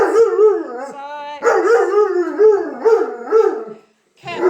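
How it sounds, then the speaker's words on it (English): Several pet dogs yip, bark and howl excitedly in greeting as their owner arrives home in Spain, loud close overlapping calls with rising and falling howls and a brief pause near the end. "Dogs are all happy to see me, I think."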